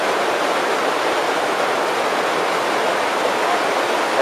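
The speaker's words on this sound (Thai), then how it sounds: "ตรงนี้เป็นชั้นหนึ่งของน้ำตก" Waterfall at Khao Chamao in Rayong, a steady, loud broadband rush of falling water that fills the whole span without a break and with no voices.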